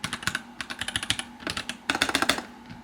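Fast typing on a mechanical keyboard, close and crisp, with rapid clacky keystrokes in uneven bursts and a short pause midway, no voices.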